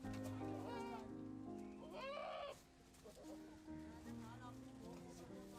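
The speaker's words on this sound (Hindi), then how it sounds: "फिट बकरा मिल गया यार" A goat bleats at a busy livestock market, a drawn-out wavering cry in the middle among crowd chatter and other animal calls.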